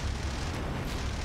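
Aircraft guns firing in combat in the IL-2 Sturmovik flight sim, a P-51B in career mode, as a dense, continuous low booming roar of rapid fire that holds steady and loud throughout.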